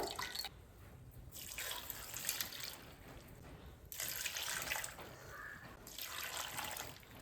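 Water pours in bursts into a pot of jackfruit pieces for cooking, splashing and trickling in several separate streams, soft and close, with no voices.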